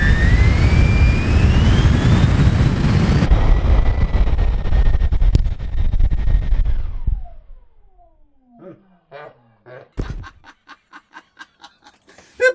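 A Freewing Vulcan RC jet's 12-blade ducted fan on a 6S 5000 mAh battery screams at full power close by, then abruptly cuts and whines down, followed by laughter.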